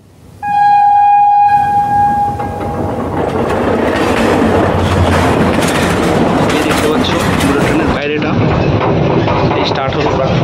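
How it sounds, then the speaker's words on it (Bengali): A park bullet train starts off from the platform, opening with a sustained horn-like tone, then loud continuous rolling rumble and clatter of the cars close by, with voices faintly underneath. "এই স্টার্ট হলো প্ল্যাটফর্ম থেকে ট্রেন।"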